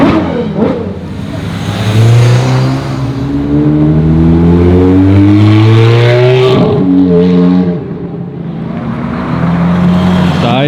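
A Ferrari 458 V8 revving hard at a large Ferrari gathering, its rising engine note climbing through the gears as it approaches and passes close by, loud and dominant with a brief voice heard early on.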